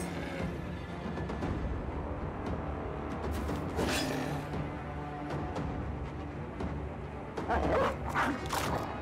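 Dog barks from the video game Battle Brothers, a few sharp yips and barks over a busy, dense game soundtrack with combat noise throughout.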